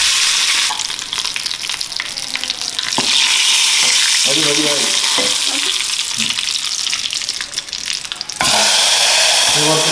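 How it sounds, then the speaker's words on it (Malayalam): Mustard seeds crackle and sizzle loudly in hot oil left over from frying papadam, a dense frying hiss with scattered pops and stirring, swelling to a stronger burst near the end. "അതിനുശേഷം നമ്മളിപ്പോൾ പപ്പടം പൊരിച്ചതിന് ശേഷം കുറച്ച് കടുക് എടുത്തിട്ട് നമ്മൾ വറുക്കാൻ പോവാണ്."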